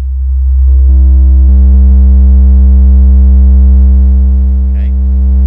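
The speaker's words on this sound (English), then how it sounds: "this is what happens when you drive the signal into the brick wall" A steady sine wave tone is driven into a brick-wall limiter, so a pure hum quickly gains a stack of buzzy distortion harmonics and holds loud and constant for several seconds.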